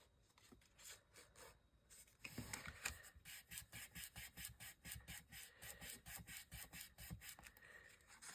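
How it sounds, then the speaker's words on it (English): Fingers repeatedly rub and press down the glued trapezoid flap of a paper gift box, a close, rhythmic rasping that quickens into steady regular strokes after a quieter start. "I feel like a little finger burnishing goes a long way with this."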